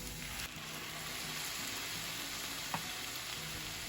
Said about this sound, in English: now I'm going to add my red wine